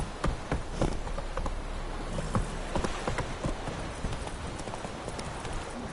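Geralt's horse Roach trots across ground in The Witcher 3 video game, steady clip-clop hoofbeats close by over a soft ambient bed of buzzing insects, with no speech.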